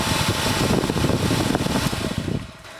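A Head Kandy blow dryer running nearby, a loud steady whooshing roar of air that holds even and then drops away as it switches off near the end.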